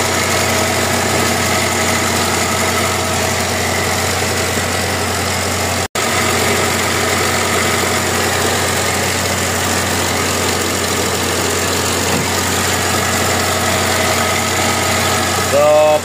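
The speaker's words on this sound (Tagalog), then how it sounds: "Yung ingay ng belt." A Mazda 323 engine idling with a noisy belt, a steady close mechanical drone with a constant whine and rattle running throughout, briefly cut once, with no voices over it.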